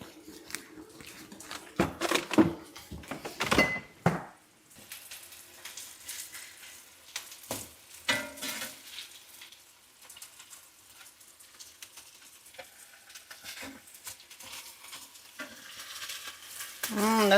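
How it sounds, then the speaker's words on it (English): Beef patties sear in hot olive oil in a pan, a soft steady sizzle under occasional loud clatters and handling noises, with a few brief words spoken nearby. "We're going to be searing the patties 2 minutes on each side."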